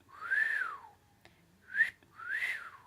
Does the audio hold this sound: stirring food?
no